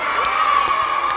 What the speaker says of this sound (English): give Mosen one last big cheer